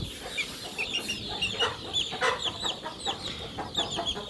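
A chicken chick clucks and peeps repeatedly while being weighed on a scale, sharp high chirps coming in an uneven rhythm, close and fairly loud.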